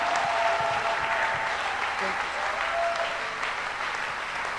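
A church congregation claps loudly as an offering to the Lord, a dense, steady wash of applause sustained throughout with voices mixed into the crowd.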